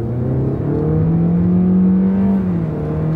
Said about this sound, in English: Got some zip to it, a nice little acceleration that you could slightly hear.